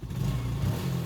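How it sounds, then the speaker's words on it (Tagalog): Yamaha Sight motorcycle engine with a new power-up wiring setup, revved briefly up close: a steady, loud low idle drone rising slightly, with no talking. "Rev tayong konti."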